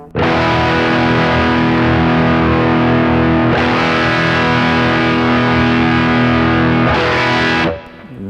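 Heavily distorted electric guitar through a Fuel Injector distortion pedal in fat mode, sustained chords ringing loud and thick, the tone shifting brighter at a couple of points as the tone control is turned, ending abruptly.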